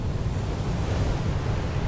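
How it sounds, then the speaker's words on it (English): Fast-moving water rushes in Far: Changing Tides, a steady, dense roar of surf-like wash with a windy hiss, continuous and fairly close throughout, with no voices. "And the water's moving pretty fast up here."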